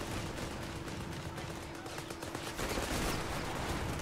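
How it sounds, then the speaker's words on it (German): Soldiers firing rifles and machine guns in a World War II strategy video game, a steady crackle of distant rapid bursts, fairly faint, continuing throughout beneath low background game ambience. "Ah, jetzt schießen die Jungs."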